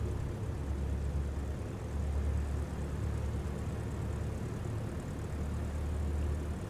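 A Piper J3 Cub light aircraft in flight along the Delaware Bay coastline, its small engine giving a steady low droning roar with rushing wind, heard from inside the cockpit without speech.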